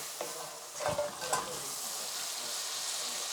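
Spices sizzle in a pan with a splash of water, cooked for a rohu fish-head and mung dal dish. A couple of stirring scrapes sit over a continuous, even frying hiss.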